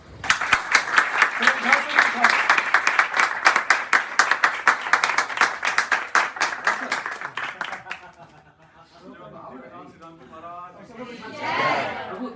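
An audience at a Bhagavat katha house program in Janakpuri, New Delhi, claps for the family in a loud, steady rhythm for about eight seconds. The clapping then fades and voices talk.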